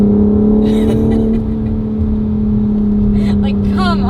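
A 2023 BMW M4 Competition, driven in its M2 settings, holds a steady engine drone under a voice that talks throughout, and the revs climb briefly near the end.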